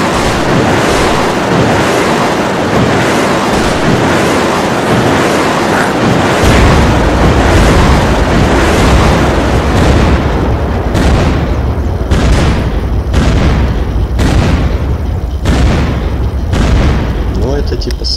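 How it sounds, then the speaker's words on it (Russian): Fireworks salute explosions go off on an Unturned game server, a string of loud booming bursts over a roaring, windy background, coming faster and sharper in the second half. "Давайте, я не знаю, сделаем ему салют."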